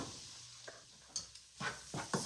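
Ground meat being stirred with chili seasoning in a pot, soft scraping and stirring strokes, quiet and close, with a faint sizzle between the strokes.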